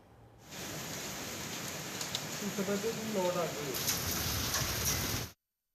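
Heavy rain with hail pours steadily in Almora, Uttarakhand during a storm, a dense hiss of drops striking surfaces, with a voice talking over it.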